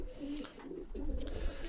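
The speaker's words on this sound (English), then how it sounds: "The next pigeon is one of my favourites, and he's bred me some really nice pigeons." A Dutch-imported pigeon of the rarer coloured race cooing on an allotment loft, a steady low throaty coo rolling on and off through the short stretch, close and clear.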